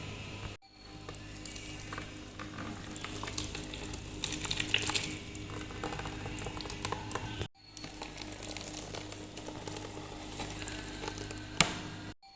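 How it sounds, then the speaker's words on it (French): Papaya is blended for homemade tropical fruit juice in a blender that runs with a steady, dense whir, close and moderately loud, broken by two short stops before it starts again. "Donc là, je vais commencer à mixer."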